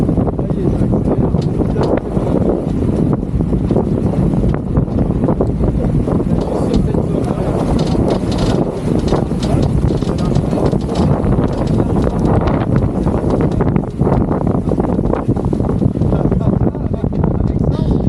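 Strong wind gust roaring across the microphone aboard a sailboat off Boulogne-sur-Mer, a loud sustained gust with rushing water beneath it as the boat accelerates.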